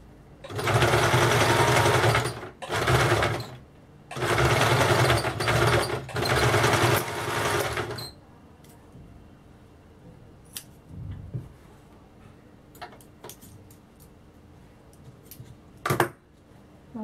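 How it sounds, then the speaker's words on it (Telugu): A sewing machine stitches a designer pattern blouse along drawn lines in several loud, close runs with short pauses, then stops, leaving faint clicks and fabric handling. "ఆ లైన్ మీద మీరు స్టిచ్ చేసుకుంటూ వెళ్తే నీట్గా ఉంటుంది."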